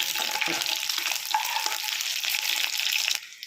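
Taro pieces frying in a pan for taro curry, a steady close sizzle with light stirring scrapes that drops off near the end.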